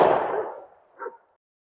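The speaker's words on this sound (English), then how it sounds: "our 11th time firing the Winchester AA" A shotgun fires a Winchester AA shell that has been reloaded ten times, now on its eleventh firing: one loud, close blast that rings out and decays, then a brief faint clatter.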